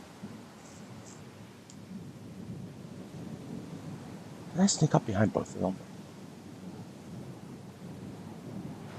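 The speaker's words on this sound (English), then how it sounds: "A thunderstorm like this one." A thunderstorm with rain in the video game Splinter Cell Chaos Theory: a steady hiss of rain runs throughout while someone speaks briefly in the middle, with a low thunder rumble underneath.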